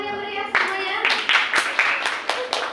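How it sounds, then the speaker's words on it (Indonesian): Audience clapping for contestant number 7 at a vlog competition, loud sharp claps from a fairly small group in uneven bursts, with a voice audible beneath at the start. "Tepuk tangan yang meriah semuanya."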